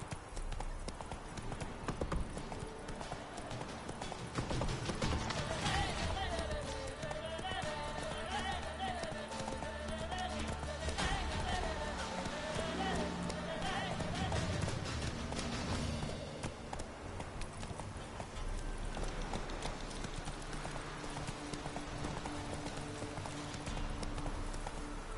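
Roach the horse gallops in a video game, hooves clip-clopping in a steady rhythmic beat that carries through the whole stretch over background music, with a voice briefly speaking near the start.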